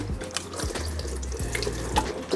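Water runs steadily from a tap or watering can onto newly planted bare-root strawberry plants in compost, a continuous close splashing stream with no talk.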